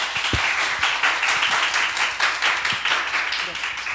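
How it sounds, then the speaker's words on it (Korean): An audience claps warmly for the speakers at a talk-show session of a young event planners' forum: a dense, even burst of many hands lasting several seconds, with a few sharper close claps. "연사님들께 뜨거운 박수 랜선으로 한번 보내주세요."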